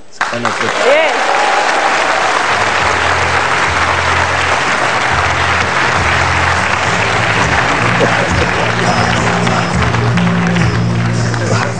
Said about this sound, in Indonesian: Tepuk tangan sekali lagi Ibu Megawati